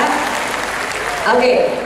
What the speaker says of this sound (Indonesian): Tepuk tangan yang paling meriah buat kalian semua ya.